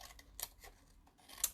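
Scissors trimming small pieces of colored paper for a starburst craft, giving a few quiet, crisp snips spaced apart, the sharpest cut near the end, alone with no talk.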